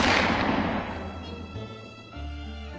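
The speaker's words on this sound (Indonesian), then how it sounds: "Agustin kembali menembakkan senapannya." Rifle gunshot, one sharp loud crack with a decaying tail, followed by soft background music.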